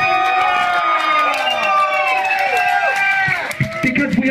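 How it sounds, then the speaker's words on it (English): A club crowd at a gig at Eli's Mile High Club cheering for the band, loud rising and falling shouts and whoops layered over a dense roar of voices, close and continuous. "deserves a really big round of applause"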